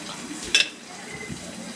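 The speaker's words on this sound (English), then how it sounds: "Oh my god, it's splashing my face." Water splashing as it is poured for Dunkin' coffee, a single brief splash rising above a faint, quiet trickle of liquid.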